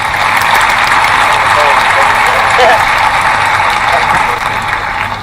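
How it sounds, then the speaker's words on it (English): Audience applause and cheering during a show featuring Grupo Entrego, a loud, continuous crowd roar with clapping blended in, steady throughout and tapering slightly at the end. "Round of applause right there."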